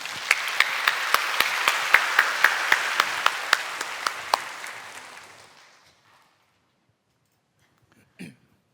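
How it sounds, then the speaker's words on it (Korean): A church congregation at Sunday worship applauds in a full, even wash with a few sharper claps standing out, fading away over about six seconds, then a short isolated sound near the end. "나오실 때 우리 박수로 맞이해 주시기 바랍니다"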